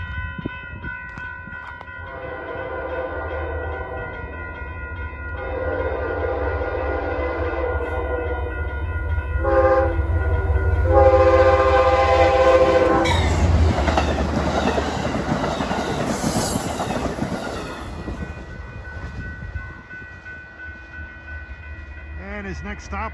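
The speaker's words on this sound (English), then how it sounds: "Now coming at 5:32 is Amtrak 244, en route from Albany, Rensselaer to Penn Station in New York." Amtrak 244 passenger train from Albany-Rensselaer to Penn Station passes along the Hudson River, its rumble and rail clatter swelling to a loud close pass and then fading, with a horn sounding midway.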